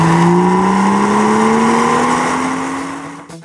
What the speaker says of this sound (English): The innovative M twin-power turbo technology offers outstanding torque available across a wide rev band with rapid responses and excellent efficiency, and a distinctive engine soundtrack